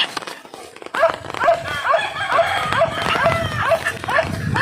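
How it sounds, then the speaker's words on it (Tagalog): A farm dog named Ilay in rural Lagonoy, Camarines Sur, barks repeatedly and close by in sharp, insistent yips, with brief whimpers between the barks and faint rainy outdoor ambience underneath. "Para matigil yung kahol niya."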